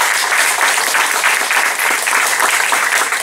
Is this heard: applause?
yes